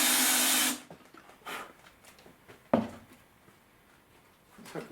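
A power drill cutting a countersink hole into pine, with a short loud whirring burst at the start followed by several brief, quieter drill pulses and knocks.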